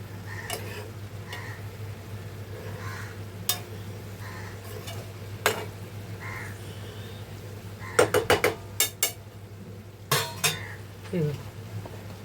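A salted moth bean curry is stirred in a pan on a low hum, with sparse taps and then a quick cluster of sharp metallic clinks and scrapes of the spoon against the pan; no speech.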